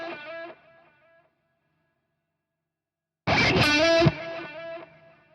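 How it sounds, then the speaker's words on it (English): Two short guitar phrases washed in reverb, the second louder and fuller, each tail ringing out and fading into silence. "Now all you're going to do is you're just going to hear reverb."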